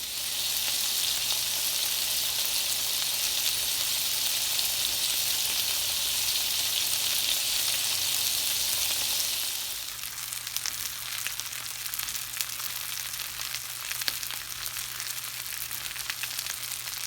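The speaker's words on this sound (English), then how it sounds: "now I'm going to slice a small piece of this off and fry it up in the cast iron" A small slice of home-cured pork fries in a cast iron pan, giving a dense, steady close-up sizzle with a faint low hum underneath. Partway through, the crackle turns brighter and more spattery, with scattered pops and no voices throughout.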